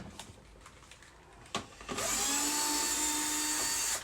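A powered screwdriver whirs steadily, backing Phillips screws out of the plastic case of a Sony HCD-HP7 five-disc CD changer, preceded by a few light clicks and taps of handling.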